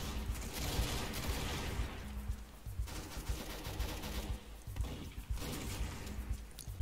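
Gunfire in Roblox Arsenal crackles in rapid, faint bursts against a busy game background, no one speaking over it.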